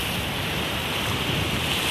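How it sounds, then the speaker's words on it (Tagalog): Sea waves wash continuously at a beach, a broad steady surf roar with some wind buffeting the microphone, close and loud with no voices. "Ang sarap ng dagat."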